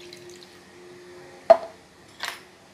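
Water is poured into a bowl of beaten eggs and chicken for steamed eggs, giving two brief, close splashes about a second apart against a quiet background.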